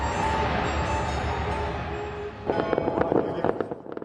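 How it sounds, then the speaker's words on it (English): New Year fireworks burst over the Arc de Triomphe in Paris, a dense crackling rumble that breaks into sharp pops and booms toward the end, heard from a distance. "Paris kicked off 2025 with massive fireworks on Wednesday, which momentarily engulfed the Arc de Triomphe monument in a fiery display."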